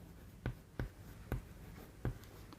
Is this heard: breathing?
no